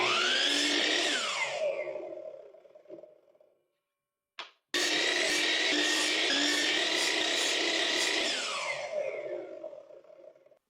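A table saw with a rough blade cuts through wood in two loud passes, a high whining buzz rising into the cut and falling away, split by a short pause and a sharp click, close by with no talking.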